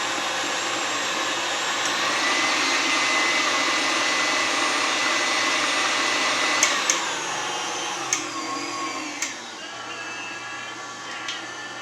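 An electric mixer whirring steadily through pumpkin roll batter, a loud continuous motor drone that eases off near the end, followed by a few light clicks and taps, with no speech.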